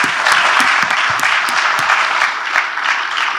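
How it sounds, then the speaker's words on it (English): Loud audience applause for speakers on a conference panel stage, dense sustained clapping from a large crowd with sharp individual claps standing out, close and continuous. "people are clapping out loudly"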